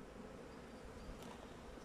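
Honey bees swarm around an opened hive in cold-season conditions, their steady broadband buzzing quiet but continuous throughout, alone with no voices over it.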